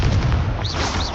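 A Confringo fire spell in the video game Hogwarts Legacy goes off as a short, loud, booming burst with heavy low rumble and a brief whooshing tail, heard close and alone.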